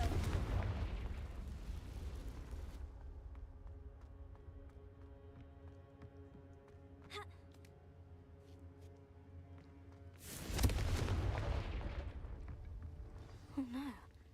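A Confringo blasting spell explodes in the Hogwarts Legacy video game, a loud booming burst that fades into a low rumbling tail before a second heavy blast hits near the end.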